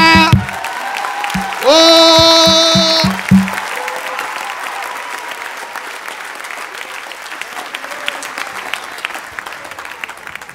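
A church congregation bursts into applause and cheering after a brief exclamation and some musical tones, the clapping swelling loud and sustained, then thinning into scattered claps across the room.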